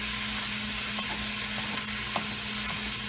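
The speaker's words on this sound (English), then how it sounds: "that loud cooking noise does go down, as you can hear" Ground meat sizzles steadily in a hot pan, a dense crackling hiss with occasional pops and scrapes, close and continuous.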